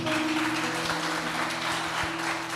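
A church congregation claps together during a worship service, a dense, continuous wash of applause that stays at a steady level throughout, with a faint sustained tone underneath and no voices.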